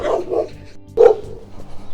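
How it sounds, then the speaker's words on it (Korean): Several dogs bark in a snowy alley in Jeongneung 3-dong. Two loud, close bursts of barking sit about a second apart, with quieter yips between them. "우와 강아지들 되게 많다."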